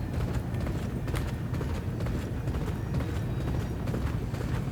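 Galloping horse hooves from the Champion Jockey racing video game, a steady rapid clip-clop rhythm of the racing field pounding along continuously at close range, with no voices over it.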